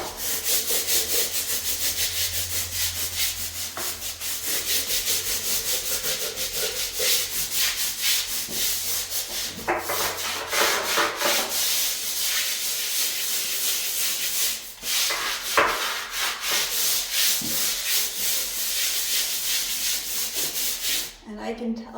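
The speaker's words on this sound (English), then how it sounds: "just waiting a few minutes and just scrubbing this." Scrubbing soap scum off bathroom tiles with steady back-and-forth rubbing, close and continuous for the whole stretch with brief pauses and strokes.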